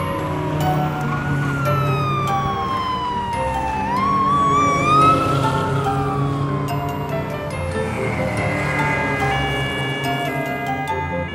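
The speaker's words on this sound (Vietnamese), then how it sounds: "Xe cảnh sát." A toy police car siren wails continuously with rising and falling tones over bright, music-like electronic notes, steady and fairly loud throughout with no talking.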